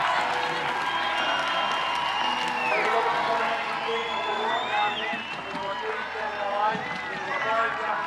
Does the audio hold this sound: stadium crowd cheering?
yes